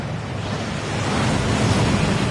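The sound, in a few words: waterfall rushing at Gringotts, from a Harry Potter video game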